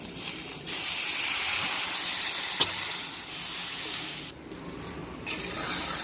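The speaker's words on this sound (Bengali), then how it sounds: "দুটো আলু কেটে নিয়েছি কাঁচা লঙ্কা আর তেজপাতা এগুলো হালকা করে একটু ভেজে নিচ্ছে" Potatoes, green chillies and bay leaves fry in oil in a pan, giving a steady loud hiss and sizzle that drops briefly near the end, with no talking.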